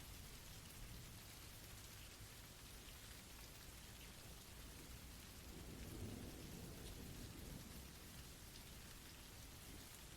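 Steady heavy rain pours down with rumbling thunder rolling underneath, a dense, continuous storm ambience with a swell of thunder near the middle and no voices.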